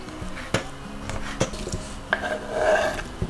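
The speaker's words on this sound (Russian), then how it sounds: "А теперь порежем помидорку." Several knife taps against a cutting board at an uneven pace as a tomato is sliced, close and moderately loud, with faint rubbing and clinking between cuts.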